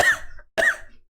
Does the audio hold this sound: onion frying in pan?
no